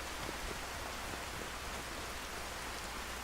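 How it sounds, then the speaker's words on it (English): Steady rainfall in the video game Skyrim, a broad, even hiss of falling drops at moderate level, continuous and without voices. "It's raining now!"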